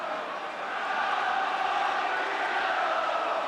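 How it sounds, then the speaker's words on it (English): A football stadium crowd in 1985 roars steadily near half-time, a dense, continuous wash of cheering and shouting from many voices at a distance. "Crowd willing the home side to go in with a half-time lead."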